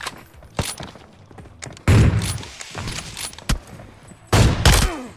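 Gunfire in the shooter game PUBG Mobile, a 25-versus-25 match: sharp, loud shot bursts and short fusillades break out between quieter stretches, with a couple of isolated single shots.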